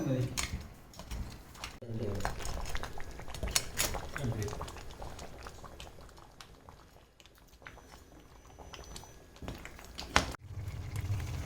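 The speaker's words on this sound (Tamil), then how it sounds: "இப்போ மூடி போட்டு நல்லா கலந்து விட்டுட்டு மூடி போட்டு அப்படியே வேக வச்சுக்கலாம்" A spoon stirs crab masala in a metal pot and a lid is set on it, producing scraping and clinking with a bubbling simmer underneath, close and moderately quiet throughout.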